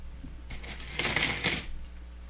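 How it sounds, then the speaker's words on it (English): Rattling clatter of small hard Lego pieces from the Republic Gunship set 75309 being shuffled, two short bursts close up, with a quiet hum underneath. "there will be the shuffling of pieces and that noise"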